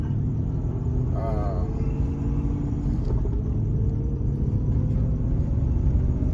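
An Aston Martin engine rumbles loudly from inside the car as it accelerates, a steady low drone with a rising tone, while people talk over it.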